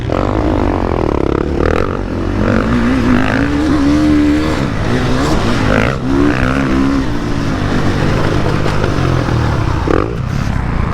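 A 2020.5 KTM 450 SX-F Factory Edition motocross bike with a Rekluse auto clutch roars steadily while being ridden, loud and close, its engine pitch rising and falling with throttle, with wind buffeting throughout.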